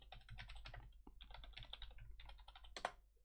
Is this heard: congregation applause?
no